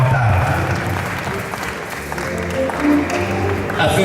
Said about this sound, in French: Give a hand clap again to Jesus.